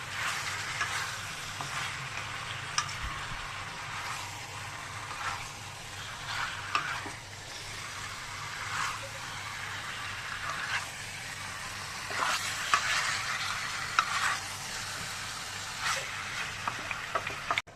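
Masala for a nattu chicken fry sautéing in butter and ghee, a steady close sizzle and crackle with occasional scrapes and stirring clatters throughout.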